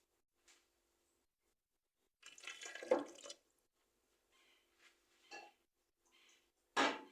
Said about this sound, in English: I boiled the cinnamon leaf in some water, strain it,